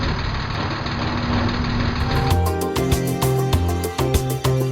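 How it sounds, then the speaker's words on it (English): Car engine running on oil treated with Dunba nano additive, a steady near idle hum that gives way to a rhythmic, pulsing mechanical running sound. "make the engine sound good."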